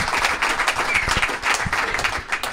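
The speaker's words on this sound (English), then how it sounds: "That was an ominous round of applause." Audience applause fills a conference hall after a talk at DrupalCon Prague 2013: a brief, dense, even burst of many hands clapping, fairly loud and sustained for a few seconds.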